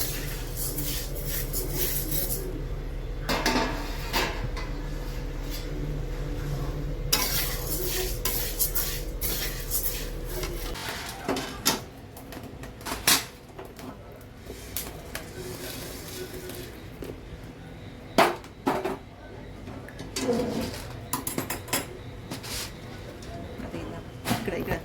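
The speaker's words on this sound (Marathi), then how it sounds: "अर्धा किलो गहू आहेत, हे पण भाजून चांगले लालसर भाजून घ्यायचे" Half a kilo of wheat grains dry-roasting in a pan, with scattered rattling, scraping and clinks as they are stirred. Someone talks intermittently over it, and a low hum drops away partway through.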